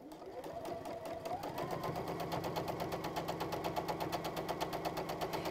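A sewing machine runs steadily, top stitching a reversible T-shirt tote bag, its needle chattering in a fast, even rhythm that builds up from a slower start and continues close and clear with no voices.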